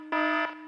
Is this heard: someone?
no